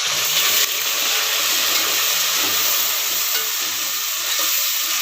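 Tomatoes and onions fry in oil for fish kulambu with a constant hissing sizzle, steady and close, with faint stirring underneath.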